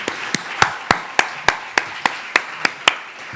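Clapping at a conference closing a roundtable: crisp, evenly spaced claps in a steady rhythm, about three per second, close and clear with no voices over them.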